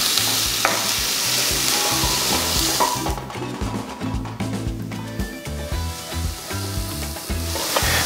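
Ingredients for pork igado sizzle loudly as they sauté in a pan, with a steady hiss and intermittent stirring clatter, easing briefly midway before picking back up.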